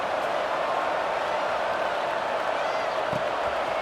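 A stadium crowd in an EA Sports college football game, Tennessee Volunteers against Clemson Tigers, roars steadily at kickoff. The cheering is a dense, continuous wash that holds at an even level throughout.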